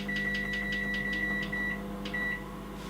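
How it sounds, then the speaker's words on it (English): A microwave oven hums steadily at close range as a cooking breakfast runs, with a series of short evenly spaced electronic beeps and then two more beeps. "Then I put it for 5 minutes in the microwave."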